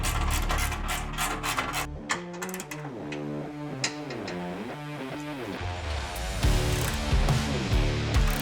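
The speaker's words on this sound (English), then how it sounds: "So we'll go ahead now and get the 4 bolts here tightened up." Bolts on a 2024 Toyota Tacoma skid plate being tightened with a power tool, close whirring and ratcheting bursts with rising and falling pitch, alone without talk.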